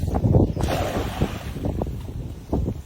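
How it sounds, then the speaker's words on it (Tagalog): Strong wind gusts buffet the microphone outdoors on the water during fishing, a broad continuous roar with surges and faint splashing around a small boat. "Lakas ng hangin ah."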